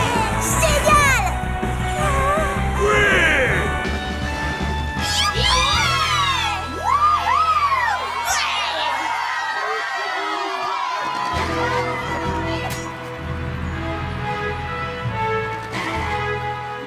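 An animated crowd at a pony games event cheers for a delegation, with whoops, excited shouting and high childlike yells layered over music and bright voices, loud and continuous throughout.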